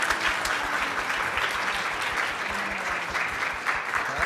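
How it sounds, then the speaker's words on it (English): A conference audience claps for Erica and the panel in a hotel meeting room, sustained even applause from a sizable crowd throughout, close and fairly loud, with no speech over it. "Please give a round of applause for Erica and the whole panel."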